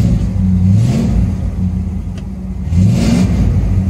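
A Chevy C20 truck engine idles steadily after a cold start, with a deep low rumble, a slight rise in revs near the start and again toward the end, and an exhaust leak, loud and close with no talking.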